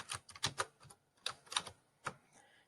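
Quiet keystrokes typed on a computer keyboard in short irregular bursts, with soft clicks spaced by brief pauses and no talking.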